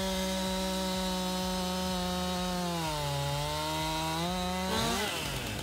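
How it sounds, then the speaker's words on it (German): A chainsaw in Farming Simulator 19 cuts through a small tree, its engine a steady loud drone that bogs and shifts pitch mid-cut before revving free at the end. "Dann sägen wir einmal das Bäumchen durch"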